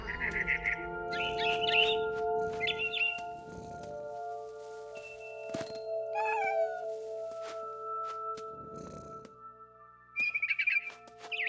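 A cat meows several times in a video game, What Remains of Edith Finch, clear and close, alternating with bright bird chirps and a few sharp clicks.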